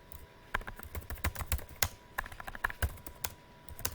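Someone types a prompt on a computer keyboard, with quick, irregular clusters of close, crisp key clicks and short pauses between bursts, and no one talking.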